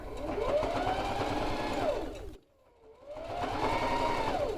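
A sewing machine stitches a long seam on a quilted coat, whirring steadily and rising and falling in speed, then pausing briefly before running again, close and alone.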